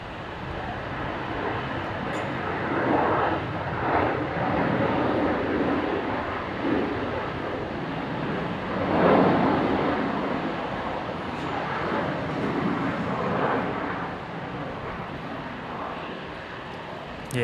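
Velocity 705, a jet airliner arriving from Hobart, touches down on runway 19 left at Brisbane Airport, giving a steady, broad roar of engines and rushing air at moderate distance.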